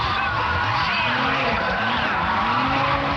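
Race cars drifting in a racing video game, engines roaring loudly with continuous tire skid and squeal sliding in pitch through long drifts.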